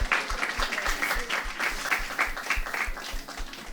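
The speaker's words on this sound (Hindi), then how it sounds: "एक बार उनके लिए जोरदार तालियां" Audience at a press event applauds a song team in a loud, steady wash of clapping, with irregular low thumps running underneath.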